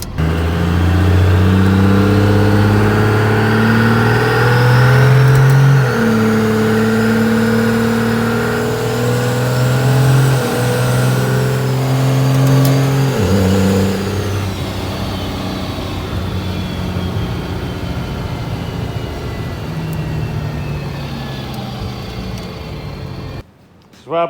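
A first-generation truck with no shocks fitted drives down the road, its mid-pitched engine droning steadily and shifting through revs as it accelerates and settles, loud and close from start to finish.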